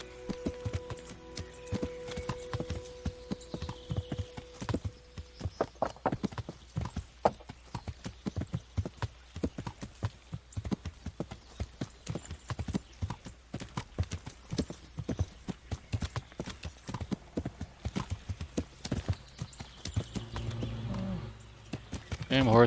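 Video game horse in Kingdom Come: Deliverance clip-clopping along a riverside path near woodcutting, steady walking hooves with a brief whinny, close and clear under occasional talk.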